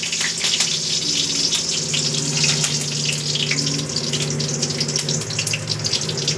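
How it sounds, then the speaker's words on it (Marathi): Curry leaves crackle and spit in hot oil for tempering before onions go in, a steady close sizzle with sharp pops scattered throughout and no talking. "फोडणीसाठी कढीपत्ता"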